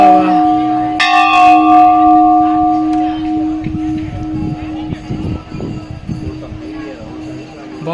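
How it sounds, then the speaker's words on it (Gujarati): A temple bell at the Poicha Nilkanth Dham temple complex is struck once and rings on with a long, steady sustained tone over crowd chatter and voices nearby. "વગાડો ઘંટ."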